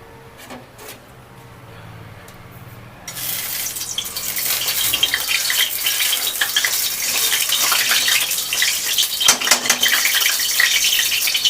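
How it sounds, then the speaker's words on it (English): Loud, steady sizzling and crackling of pumpkin frying in hot oil in a pan, starting after a quieter moment and continuing with occasional pops and stirring clatter. "I'm just frying this pumpkin a little bit"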